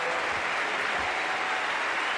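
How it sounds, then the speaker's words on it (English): Cricket ground crowd applauding a batsman's innings, a continuous, even patter of many hands clapping at a distance, steady and unbroken. "And look at the Australians all clapping."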